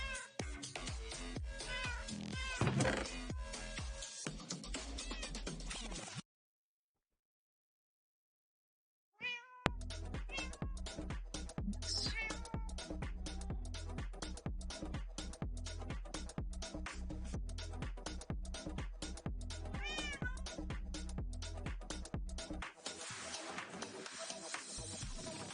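Repeated cat meows from a Minecraft game, mixed into a dense, continuous run of game sound that stops for a few seconds of silence midway and then resumes.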